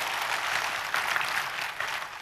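A church congregation applauding together in praise, a steady dense wash of clapping that fills the whole moment at moderate loudness, with no talk over it.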